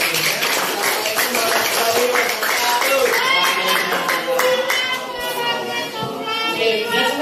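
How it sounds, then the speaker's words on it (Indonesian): A classroom of students clapping together, a dense, continuous patter of many hands held at an even level for several seconds, with voices mixed in. "Oke, beri tepuk tangan"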